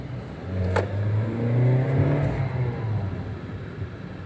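A 2010 Toyota Yaris with a 1.5-litre engine and five-speed gearbox accelerates while driving, its engine note rising steadily and droning loud from inside the car, with no talk.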